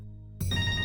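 Mobile phone ringtone bursting in loudly after a low hum, a bright electronic tone with steady pitched layers that keeps sounding to the end of the short moment.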